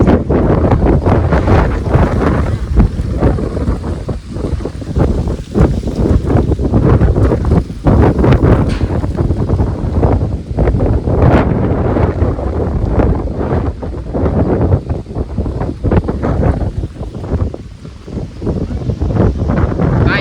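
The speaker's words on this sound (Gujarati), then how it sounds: "ફૂલ પવન છે." Strong gusty wind of an unseasonal storm bringing rain, buffeting loudly, roaring and thumping in uneven bursts throughout, with no voices.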